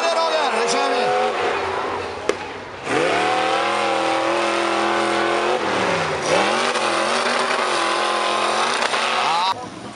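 Race cars in a full-size monster race, engines roaring and revving continuously at close range with pitch sweeps as they accelerate and shift, while a commentator talks over the noise.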